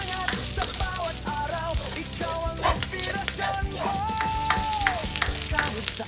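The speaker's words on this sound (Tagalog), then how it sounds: "Fry muna natin siya ng konti." Fried rice frying in a pan for a morning breakfast, a close, continuous crackling sizzle with scraping stir strokes and faint background tones throughout.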